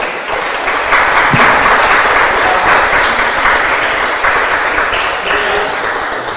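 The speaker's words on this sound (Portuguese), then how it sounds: "Pode aplaudir a Jesus" A church congregation bursts into sustained, loud applause that holds evenly for several seconds, a dense wash of clapping filling the hall.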